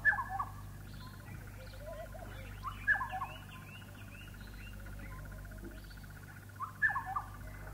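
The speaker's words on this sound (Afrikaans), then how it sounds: "Die swartkop wielewaal, 'n voël van woud en bos, begroet die dag van die top van 'n blauwgroen statige witdoring." A black-headed oriole calls at dawn from the top of a tall blue-green whitethorn tree in woodland: three short, liquid calls spaced several seconds apart, moderately distant, over a steady low background hum.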